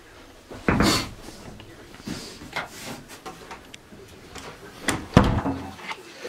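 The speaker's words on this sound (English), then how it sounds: "I just closed the closet door" A closet door in a room aboard the Queen Mary ship, swung and shut with a few wooden thumps and knocks, the sharpest near the start and again toward the end, with handling noise in between and no talking.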